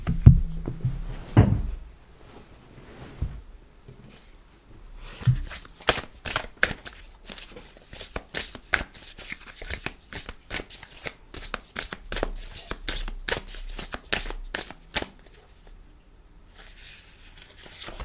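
Oracle cards are shuffled and laid out in a tarot-style reading, a long run of crisp riffling flutters and soft slaps, close and fairly loud, with a few thuds at the start.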